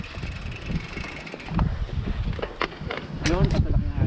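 Wind gusting against the microphone during a bicycle ride along a highway, a rough low rumble rising and falling, with a voice speaking briefly over it.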